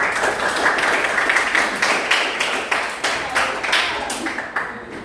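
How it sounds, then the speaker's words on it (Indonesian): Classroom audience claps for a group presentation, a brisk, even patter of many hands with individual claps standing out, sustained for several seconds with no talk. "Beri tepuk tangan"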